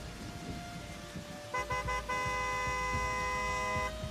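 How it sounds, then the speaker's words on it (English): A car horn on a dark, rainy road sounds in a few short toots, then holds as a long, steady honk, loud and close above a patter of rain and road noise. "The car behind me laid on their horn, clearly frustrated by whatever this was."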